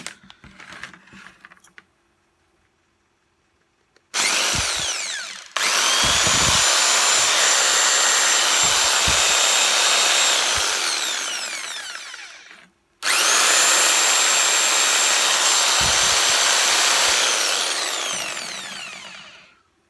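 A Skil 4900 reciprocating saw, freshly repaired after its rotor would not spin, starts up twice with a loud, steady whining motor hum, running several seconds each time before winding down, with brief handling clicks beforehand.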